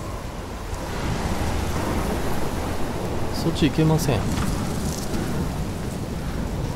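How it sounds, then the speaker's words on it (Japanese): Stormy rain and rumbling thunder in the video game Life is Strange, a steady broadband roar of downpour with a low rumble building near the middle, running beneath a person talking throughout. "オレゴンでこんな嵐なんて。"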